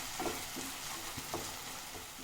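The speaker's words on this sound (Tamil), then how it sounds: "இதை வந்து எண்ணெயில் ஒரு 2 நிமிஷம் நல்லா வதக்கிக்கலாம்." Ground chilli paste for homemade Schezwan sauce fries in hot oil with a steady, close sizzle and a few soft stirring scrapes, no talking.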